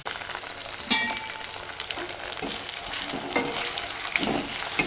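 Tomatoes sautéing in an onion and green chili masala, a continuous close sizzle broken by a few scraping stirs of a spoon against the pan.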